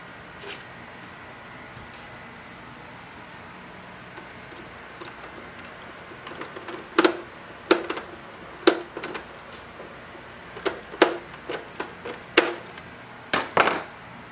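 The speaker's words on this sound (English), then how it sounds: "Now place all the 3 screws." Screws are driven back into an HP DeskJet 3700 printer during a power adaptor replacement, a quiet stretch followed by a cluster of sharp, close clicks and ticks arriving in irregular bursts.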